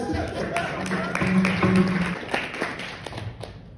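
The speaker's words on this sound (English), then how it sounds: "Give them a round of applause" Audience at a bridal competition event applauds the couples, with brisk, fairly loud clapping from a group mixed with voices and a few thumps, fading slightly toward the end.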